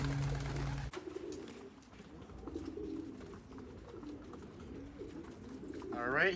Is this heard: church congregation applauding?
no